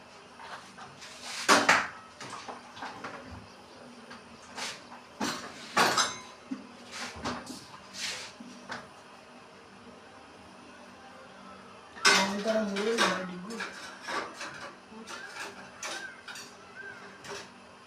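Metal bowls clink and clatter as they are set into an idli plate in a village kitchen, with scattered close knocks and rattles in irregular bursts and a busier cluster of clanks toward the end.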